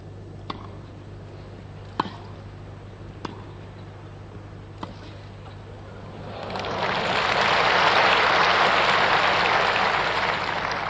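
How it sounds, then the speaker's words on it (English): At the 1978 Wimbledon women's singles final, a few crisp racket strikes ring out in a quiet arena before a crowd breaks into loud, sustained applause that swells and carries on to the end. "And terrific applause at the end there for that marvellous athleticism of the Czech girl."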